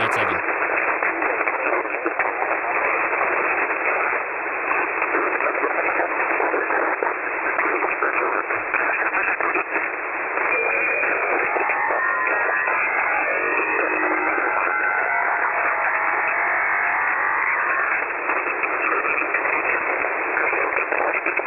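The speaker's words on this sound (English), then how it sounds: "Radio noises are happening." Ham radio reception on the 40-meter HF band through an SDR receiver: a steady, band-limited hiss of static with garbled, distorted voice-like warbling and tones drifting through it, loud and continuous throughout.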